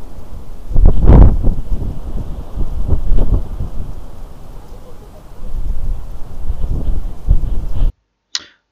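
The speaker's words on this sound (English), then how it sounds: "So windy." Strong gusts of wind on a beach batter the microphone in loud, buffeting roars that rise and fall, with a brief voice at the end.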